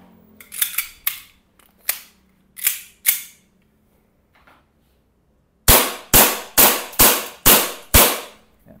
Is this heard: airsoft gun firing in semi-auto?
yes